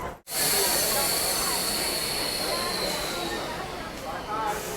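A train at a station in Bihar gives a loud, hissing rush with squealing wheels and a faint high whine, steady throughout after a brief dropout at the start.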